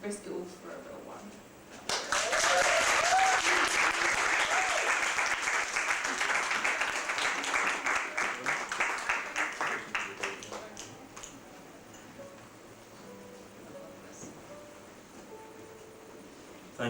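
After a spoken-word poetry set at the Amersham Arms, the audience breaks into loud, sustained clapping that swells quickly, holds for several seconds, then thins into scattered claps and quiet room murmur.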